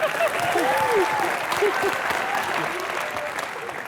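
A television comedy studio audience breaks into loud, sustained applause, dense clapping filling the room while a few voices and cheers rise over it before it gradually eases off.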